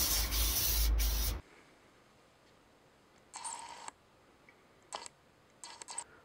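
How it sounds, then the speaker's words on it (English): A long, loud hiss of aerosol spray, then quiet, followed by several shorter, fainter spurts from the can. "I spray painted mine white"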